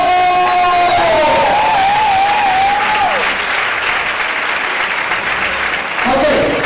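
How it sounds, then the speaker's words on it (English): Loud, sustained audience applause fills a big hall at a salsa congress during an international show night, with cheering voices and a sliding whistle-like tone over the clapping, which briefly swells again near the end. "Applause!"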